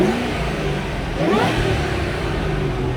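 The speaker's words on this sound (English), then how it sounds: "rev that thing up once" A supercharged 2007 Ford Mustang Shelby GT500 engine gives one steady rev up and back down, loud and close, with a low rumble underneath throughout.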